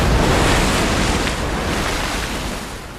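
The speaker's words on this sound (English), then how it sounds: "The SRBs plunge into the ocean, landing 15 kilometers from the ship." Space shuttle solid rocket boosters splash down in the open ocean fifteen kilometres from a recovery ship, heard from a distance as a loud continuous roar of surf and wind that slowly fades.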